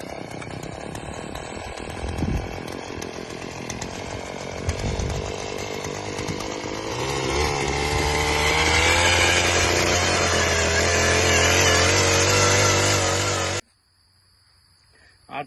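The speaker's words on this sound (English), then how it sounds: "He's gonna auger some holes." A gas-powered auger digs post holes outdoors, its engine droning and rising under load for several seconds before stopping abruptly, with voices talking over it.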